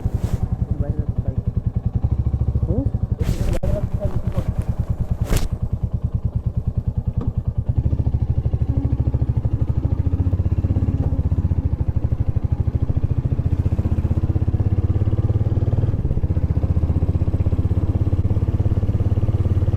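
A motorcycle engine drones continuously while riding, loud and close, with wind rumble, a few sharp clatters early on, and brief voices.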